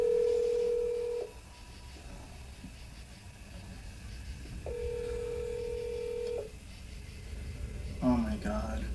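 Telephone line tones, two long steady beeps separated by a quiet pause over low background rumble, followed by a short burst of a voice near the end.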